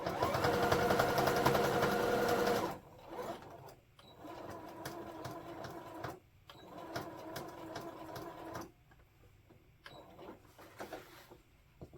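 Singer Futura sewing machine stitching canvas, a loud rapid mechanical whir at first, then shorter stop-start runs of stitching with clicks and pauses.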